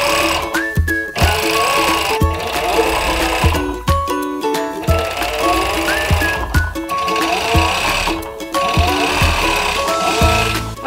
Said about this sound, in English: But I'm gonna send them through the serger.